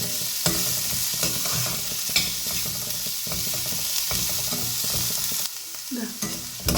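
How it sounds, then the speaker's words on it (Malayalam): Onion sautéing in a hot pan, a steady sizzle broken by repeated stirring scrapes, close and continuous without talk. "ഇതിലേക്ക് ഞാൻ ഒരു സവാള എന്നതാണ് ഇട്ട് കൊടുക്കുന്നത് ഇത് നന്നായിട്ടൊന്ന് വഴറ്റിയെടുക്കണം നമുക്ക്"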